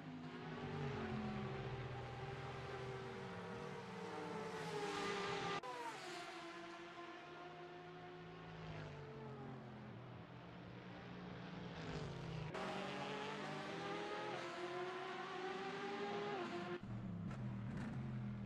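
A Porsche GT race car in the Nürburgring GT racing video game, its engine droning steadily and loudly throughout with rising and falling pitch sweeps as it accelerates and shifts through gears, no voices.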